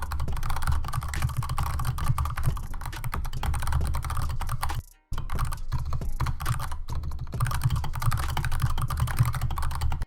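Computer keyboard typing: dense, steady clicking of keys, loud and close, running continuously apart from a brief pause midway.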